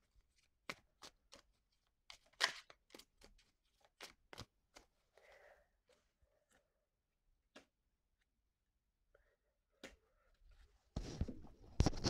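Tarot cards are handled and drawn, giving sparse soft snaps and flicks spread over several seconds, followed by a short busier rustle of shuffling near the end, close and quiet.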